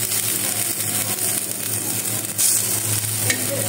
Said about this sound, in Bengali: আর যেহেতু আমরা এই পাতাটা খাবো, একটু ভালো করে ভেজে নিতে হবে।